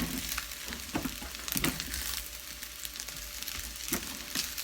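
Rice fries in a hot pan while being stirred and mixed, producing a continuous close sizzle with periodic scraping and tossing swishes, no voices.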